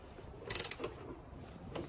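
Engine mount bolts on a 2004-13 Mazda3 being loosened with a ratchet, giving a quick burst of five or six sharp metallic clicks, then a softer click and a later faint one, all close and otherwise quiet.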